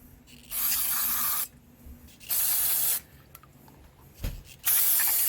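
Carburetor cleaner sprayed from an aerosol can onto a Generac GP150000E generator carburetor: several steady hissing bursts of about a second each, with a short puff between, loud and close, with quiet gaps between sprays.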